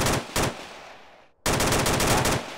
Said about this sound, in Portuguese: Caralho, atirei nele.